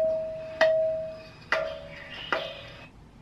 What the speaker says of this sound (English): Here's the sound of a temple bell.